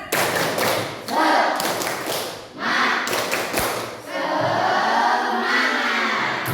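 A school class performs the 'tepuk semangat' clapping chant: bursts of rhythmic group claps and thumps in several short phrases, with children's voices chanting along between and over the claps.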